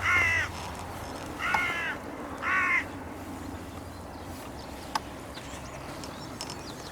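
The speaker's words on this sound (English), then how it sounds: "the hooded crows made another appearance." Hooded crows give three loud, harsh caws in quick succession outdoors, then fall silent, leaving a faint steady background hiss and a single short click.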